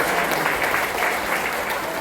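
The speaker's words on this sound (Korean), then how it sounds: "안동에 처음 오신 분들 박수 한번 주세요." An audience at a humorous lecture in Andong breaks into applause: dense, steady clapping at moderate volume with no break.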